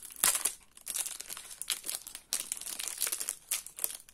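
A packaged eraser being unwrapped gives close, quiet plastic crinkling and rustling in uneven bursts for a few seconds, with no voice.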